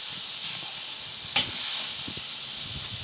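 Burgers sizzle on a grill over direct heat, a steady close hiss of fat and steam with faint crackles, no voices.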